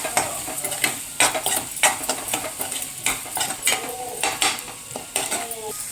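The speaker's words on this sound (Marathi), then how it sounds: "आता हे सर्व एकजीव करून मिक्स करून घेऊया." Spices (turmeric, red chili powder and garam masala) being stirred together in a metal pan, with repeated close scraping and clinks of a spoon against the cookware and a faint sizzle beneath.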